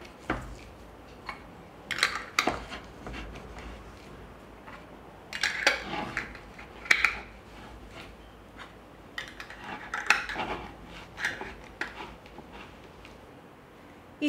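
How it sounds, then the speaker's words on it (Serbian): Glass jars of roasted pepper, tomato and bean winter preserves are closed with clean new metal lids, giving faint scattered clinks and scraping twists, quiet and close, with no talking. "I na kraju zatvaram tegle sa čistim i novim poklopcima."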